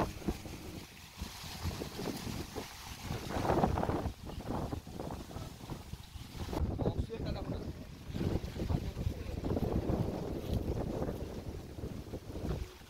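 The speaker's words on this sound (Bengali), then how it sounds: "যত শব্দ শুনছেন সব কিন্তু হাওয়ার। এখন বাইরে বেরোলেই প্রচন্ড রকম একটা হাওয়া।" Strong wind blows outdoors among rows of palmyra palm trees, buffeting the microphone with a heavy, continuous low rumble and roar that swells and eases in gusts.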